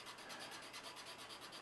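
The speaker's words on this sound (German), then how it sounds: "Ihr seht also, das geht eigentlich relativ fix, das Runterschleifen." Quick, even back-and-forth rasping as a plastic part for a German E-75 model tank kit is sanded down, a close, soft, rhythmic scrubbing with no voices.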